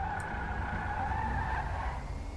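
An electric Coil Voltic in GTA 5 spinning its wheels, a sustained tire screech with a steady whining squeal held close and loud over a low rumble, with no voices.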